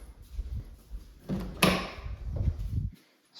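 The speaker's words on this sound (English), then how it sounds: "let's open up the closet door" A closet door in a rented house swings open with a soft click and brief wooden rattle and scrape, close by in a quiet room, ending in silence.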